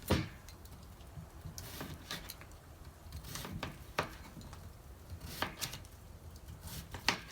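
A knife chopping yam outdoors on a board, irregular sharp knocks scattered every half second or so, fairly quiet and close with no talk.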